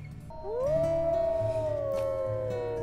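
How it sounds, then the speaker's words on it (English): Wolves in the WolfQuest video game give a long, clear howl that rises and then holds a steady, sustained pitch for over two seconds, with no talk over it. "Their howls don't seem threatening by any means"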